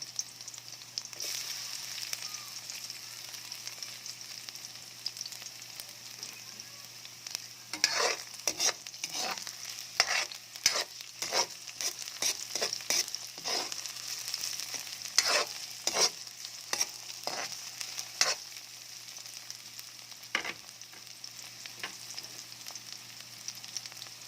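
Garlic sautéing in a pan for ginataang papaya, a steady close sizzle with repeated scraping and stirring strokes that cluster densely in the middle, no voices present.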